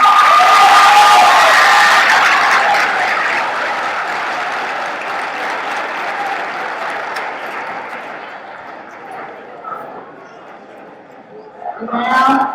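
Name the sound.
students applauding at promotion ceremony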